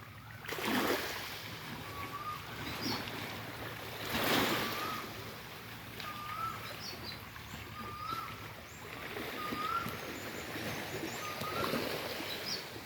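Ocean surf washes up against rocks on an island shore, broad rushing swells rising and falling every few seconds, with faint wind and scattered birds chirping in the background.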